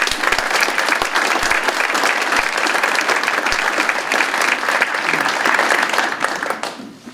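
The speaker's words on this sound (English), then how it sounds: "So round of applause." Audience at a Veterans Day ceremony applauds in a sustained, dense round of clapping that holds steady for about six seconds before tapering off at the end.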